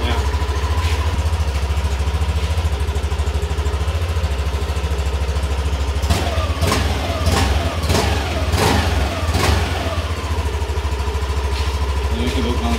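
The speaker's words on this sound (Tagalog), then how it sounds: "Ito yung tunog ng stock pipe ng Aerox." A Yamaha Aerox scooter engine with its stock exhaust pipe idles steadily with a low, throbbing exhaust rumble, close by, with a few short clicks and bumps partway through.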